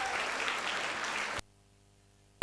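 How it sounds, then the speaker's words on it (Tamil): Applause for children at a Christmas program, a crowd clapping together for over a second before stopping abruptly into near silence. "அடுத்தது நம்முடைய பிள்ளைகளுக்காக நம்ம ஜோராக ஒரு கைத்தட்டி அவங்களுக்கு தேங்க்ஸ் சொல்லிடலாம்."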